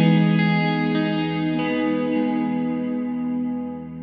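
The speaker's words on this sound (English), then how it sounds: "So let's go to the biggest plate. I love plates, and let's make it a big reverb." An electric guitar chord rings out through a huge algorithmic plate reverb from the Baby Audio Crystalline plugin, the wash sustaining and slowly fading over a few seconds.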